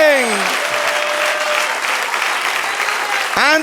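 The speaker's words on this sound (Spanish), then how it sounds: "Dale un aplauso al Señor." Church congregation applauding, a dense, steady wash of clapping throughout, with a voice briefly heard at the start and end over it.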